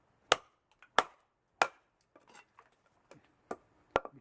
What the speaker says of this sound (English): I'm going to do killer chopping,